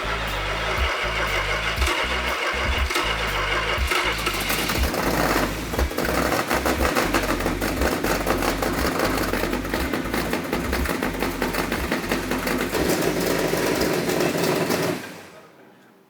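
A 1970 Hemi Charger engine cranks with a few stuttering turns, then catches and runs loud and steady at a rough, lumpy idle for over ten seconds before cutting off abruptly near the end.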